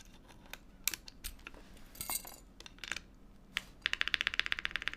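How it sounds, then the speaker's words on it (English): Keystrokes on a QK80 mechanical keyboard fitted with a GMK spacebar, scattered clacks at first, then a quick even burst of close, crisp typing toward the end, with no talking. "Spacebar still sounds a little plasticky"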